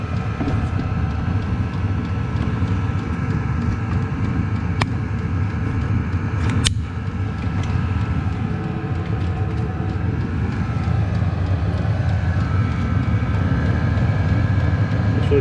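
A Chinese diesel heater's fan runs with a loud, continuous roaring whoosh like a jet engine, steady throughout, with a couple of brief clicks partway.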